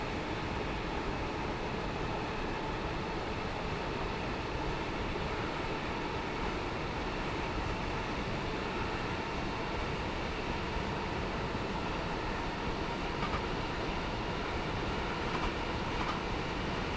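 In Train Sim World 3 on the Edinburgh to Glasgow line, a train runs with its cab window open, a steady loud rumble mixed with rushing wind noise that stays constant throughout with no voices.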